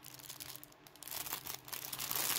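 Two plastic bags holding a small object are handled close up, giving soft crinkling and rustling that grows busier and louder toward the end, with no talking.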